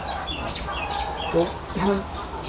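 Chickens on a poultry farm give a few short clucks and chirps, faint against steady background noise, as a voice talks nearby.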